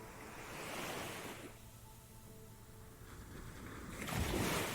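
Gentle sea waves wash over flat sand on an island shore, a soft surge swelling and receding, then rising again toward the end, with light wind and no voices.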